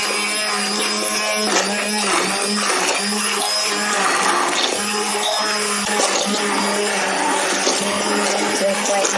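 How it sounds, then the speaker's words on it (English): An immersion blender purees thick squash soup right in the pot during a cooking demo, a loud continuous whirring grind with shifting pitch as it churns, with no voices. "So I'm going to puree this in the pot with an immersion blender."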